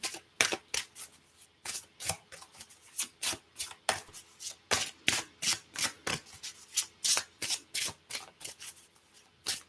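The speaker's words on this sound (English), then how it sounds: "I'm going to show it after I draw also the cards of Buddha." Oracle cards being shuffled by hand: a rapid, even run of crisp riffling and slapping bursts, close and loud, continuing for about ten seconds without talk.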